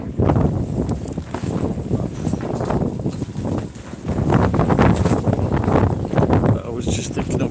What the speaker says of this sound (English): the fucking wind is getting up